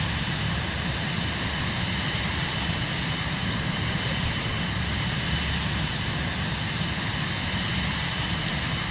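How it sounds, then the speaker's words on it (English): Cirrus Vision Jet in Microsoft Flight Simulator 2024 drones with a steady, loud, broadband jet roar that holds constant without change for the whole stretch. "he's in a Vision jet. Nice. I never get to hear how it sounds except when I'm in it here."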